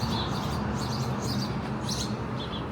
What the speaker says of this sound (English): Let's see if these are still house sparrows.